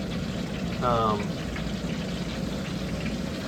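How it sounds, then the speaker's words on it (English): Water from buckets hissing on a hot, oil-leaking Pitco gas fryer with four burners, a steady broadband hiss filling the whole stretch, with a brief voice over it. "there's a little water from the buckets, and that's what you hear hissing"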